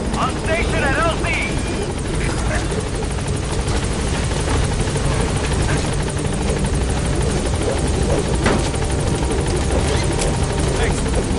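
The Pequod helicopter arriving in Metal Gear Solid V, a steady close rotor thrum and whine running throughout, with voices speaking over it.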